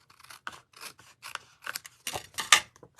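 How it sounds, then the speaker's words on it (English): Snips cutting off excess paper on a glued card craft fold, a series of short crisp snipping cuts in irregular rhythm, close and fairly quiet, with no talking. "bring in our snips. Snip off the excess."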